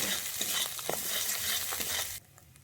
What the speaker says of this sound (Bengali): এটাকে এবার আমি ভালোভাবে একটু কষিয়ে নিচ্ছি